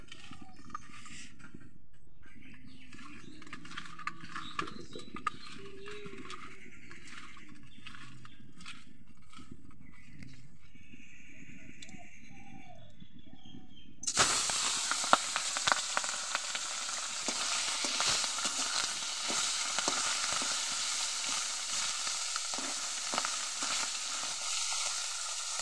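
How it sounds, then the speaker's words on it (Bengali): Fish seasoned with salt and turmeric frying in hot oil in a kadai, a loud steady sizzle breaking in partway through after quieter kitchen clatter and rustling, then crackling on continuously with sharp spatters. "মাছগুলো ভাজা হতে হতে আমি একটু আদা আর জিরে লঙ্কা বেটে নেব"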